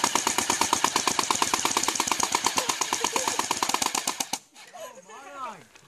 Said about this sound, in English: That's good shooting, Tommy.